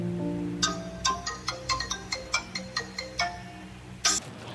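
A phone ringtone plays a quick run of bright electronic melody notes in a regular rhythm, clear and fairly close, ending with a short burst.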